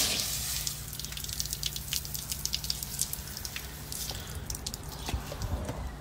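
Water runs and splatters from a tap close by, with uneven drips and gushes and no talking.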